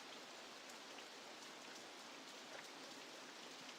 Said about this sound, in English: It looks like it's already going to be raining.